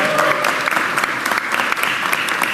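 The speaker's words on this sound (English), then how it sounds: "Give a round of applause." An audience applauds with dense, sustained clapping, loud and close, the crackle of many hands steady from start to finish.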